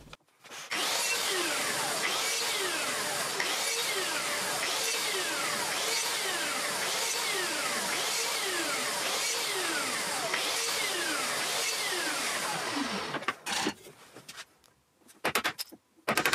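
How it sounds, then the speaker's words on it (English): A track saw makes shallow 4mm cuts in a plywood batten: a loud, steady motor whine with repeating rhythmic swells runs for about twelve seconds, then cuts off into scattered handling knocks. "I can use the track saw to make 4mm deep cuts in the reverse of the batten"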